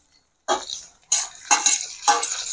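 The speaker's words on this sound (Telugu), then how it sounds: "ఇప్పుడు టమాటా ముక్కలు కూడా వేసుకుందాం." Tomato pieces go into a pan of onions already fried golden for a stuffed ivy gourd curry, and a spoon stirs them in: a few separate bursts of scraping and sizzling, close and moderately loud, with no talk.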